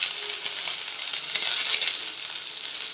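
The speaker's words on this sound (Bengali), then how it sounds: "তেলটা গরম হয়ে গেছে, আমি এর মধ্যে দুটো পেঁয়াজ নিয়েছি, পেঁয়াজগুলো ছেড়ে দিলাম" Two onions dropped into hot oil and frying, a steady bright sizzle with crackling pops that holds fairly loud and even throughout, with no voices.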